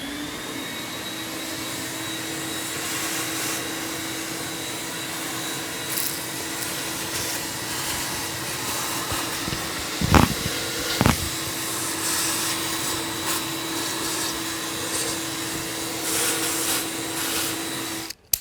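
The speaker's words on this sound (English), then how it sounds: "I'm gonna vacuum up any debris or anything here by the turbos." A vacuum cleaner drones steadily and loudly at close range, sucking debris from around the turbos of a BMW F10 M5 engine during disassembly, with a few brief clunks partway through.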